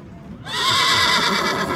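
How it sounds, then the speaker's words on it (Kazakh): Horse neighing at a livestock market in Talas, a loud close whinny that bursts in after a quiet moment and holds as a long quavering call to the end. "Бул жылқы, а?"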